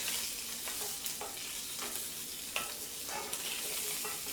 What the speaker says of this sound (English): Of course, we have some splattering going on.